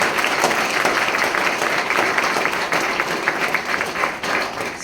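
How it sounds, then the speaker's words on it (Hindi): Audience applause at an RCM meeting at a Swaminarayan temple in Piplag, Nadiad: dense, steady clapping from a large crowd that fills the whole stretch without a break. "एक बार जोरदार ताली बजाओ तो मान।"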